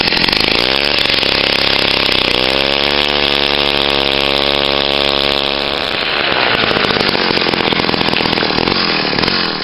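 Gas-powered ice auger drilling fishing holes through lake ice, a loud close engine whine that shifts pitch as the bit bites and then winds down, continuous with no talking.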